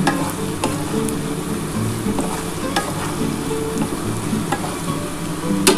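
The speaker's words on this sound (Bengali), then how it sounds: "দেখো, আমার পেঁয়াজটা কিন্তু ভাজা ভাজা হয়ে এসছে। এবার আমি মশলাটা দিয়ে দেবো।" Spice paste hits browned onions in a hot pan for a potato and rita fish curry, setting off a steady, close sizzle with repeated stirring scrapes throughout.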